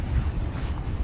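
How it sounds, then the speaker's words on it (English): Wind buffeting a microphone on a muddy riverbank, a steady low rumbling roar with gusty swells throughout, close and fairly loud, with no talk. "Oh my goodness me, it is windy."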